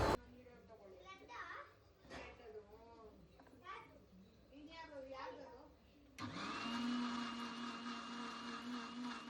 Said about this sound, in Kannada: ಅದಕ್ಕೆ ನಾನು ಕೊತ್ತಂಬರಿ ಮತ್ತು ಪುದೀನಾನ ಪೇಸ್ಟ್ ಮಾಡ್ಕೊತಾ ಇದ್ದೀನಿ